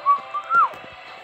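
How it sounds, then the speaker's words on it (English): A person whistling a short, clear melodic phrase of a few rising and falling notes, fairly close and alone. "just purse your lips and whistle, that's the thing."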